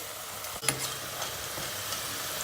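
Eggplant frying in hot oil in a pan, a continuous soft crackling sizzle with a quick stir or utensil tap early on; no voices.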